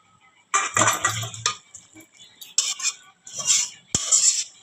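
A spoon stirs chicken curry in a pot, producing several bursts of metallic clinks and scraping against the pot, with short quiet pauses between strokes.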